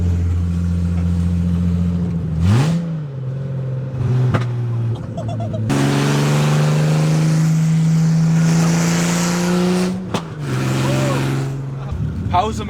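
BMW E28 engine fitted with headers and no exhaust, revving loud and raw up close in several bursts, with a sustained rasping drone between blips and voices talking over it.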